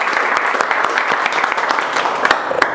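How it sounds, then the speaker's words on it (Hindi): A classroom of students on the first day of a mobile phone repair course claps loudly, with sharp, distinct hand claps standing out over a continuous rattle of applause. "हम एक बार शुरुआत करेंगे जोरदार ताली से।"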